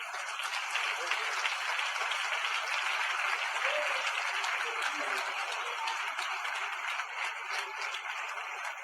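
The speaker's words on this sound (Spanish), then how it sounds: "Un aplauso al Señor." A church congregation applauds during a sermon: dense, steady applause fills the whole stretch at even strength, with no pauses or build-up.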